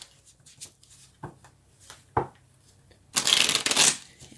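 Tarot cards being shuffled by hand: a few soft scattered taps and slides, then a dense riffling burst of card shuffling near the end, close and fairly loud.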